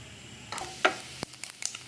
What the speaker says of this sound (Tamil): இந்த கடுகு தோப்பு காஞ்ச மிளகா பொரியும் போதே